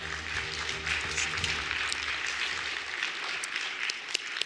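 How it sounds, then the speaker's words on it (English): Audience at a gala awards dinner clapping steadily, a dense even wash of applause at moderate distance, thinning slightly toward the end with a few sharper individual claps. "let us please give him a big round of applause"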